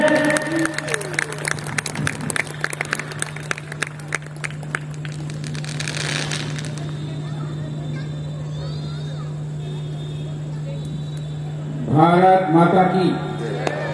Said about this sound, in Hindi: एक बार जोरदार तालियां बजा के पूज्य महाराज श्री का अभिनंदन करें